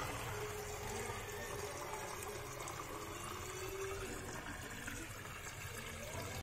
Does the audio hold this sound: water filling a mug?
yes